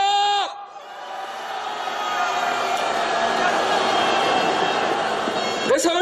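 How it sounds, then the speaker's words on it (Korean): Protest marchers at an anti-Yoon Suk Yeol candlelight rally in Seoul raise a loud, sustained collective shout and cheer, swelling after a brief opening lull and holding steady to the end as a dense crowd roar. "자, 힘찬 함성 외쳐보겠습니다."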